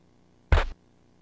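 A spaceship door closing in the Space Quest III video game: one short, dense burst of noise with a low thump, about a quarter second long, over a faint steady hum.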